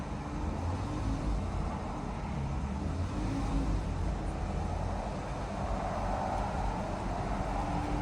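A 2015 Jeep Grand Cherokee engine, fresh from a throttle body replacement, held at a steady raised RPM, giving a constant close drone with no distinct rise or fall and no talking.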